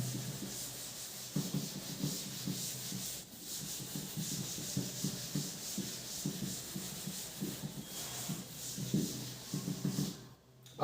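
Writing being erased from a board by rubbing, heard as rapid rhythmic scrubbing strokes, close and steady, with a short pause now and then and no talking.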